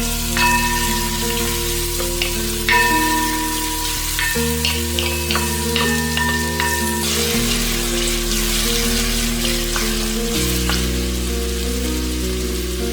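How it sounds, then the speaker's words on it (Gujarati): Chopped onions, about 400 grams, frying in a pan on the stove until browned, giving a steady loud sizzle with occasional stirring clinks, overlaid by background music throughout. "ઓનિયન સરસ લાલ થાય ત્યાં સુધી આપણે એને શેકી લઈએ"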